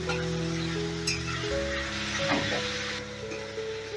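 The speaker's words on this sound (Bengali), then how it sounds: "এবার আদা রসুনের কাঁচা গন্ধটা যতক্ষণ না যাবে ততক্ষণ আমি কষবো" Ginger garlic paste for a Bengali aar fish kosha sizzles softly in a pan while being stirred, a faint, steady crackle beneath sustained tonal background sounds.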